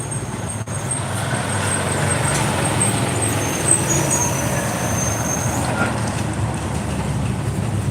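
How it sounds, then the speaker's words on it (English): Road traffic passing nearby, heavy vehicles such as trucks and buses giving a steady loud low rumble with a high whine and a brief hiss, continuous throughout. "Sorry about the traffic."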